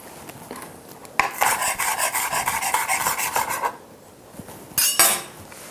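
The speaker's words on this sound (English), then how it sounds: "I'm just going to chop some chives just to sprinkle over the top of this" A knife chops chives on a board in quick, steady strokes for a couple of seconds, pauses, then lands a few more sharp chops near the end; close and fairly crisp, with no voices.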